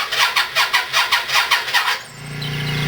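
A Yamaha Virago motorcycle cranks with about ten rhythmic starter pulses before the engine catches and settles into a steady, rising idle, loud and close, with no talk.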